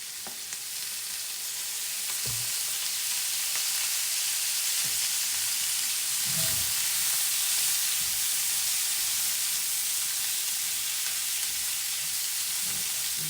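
Vegetables frying in olive oil in a pan give a steady, close sizzle and hiss throughout, with a few soft stirring knocks scattered through the sizzle.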